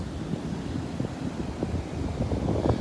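Gusty wind buffets the microphone on a chilly beach, a continuous rumbling rush that swells slightly over the few seconds, with faint surf beneath it and no talking.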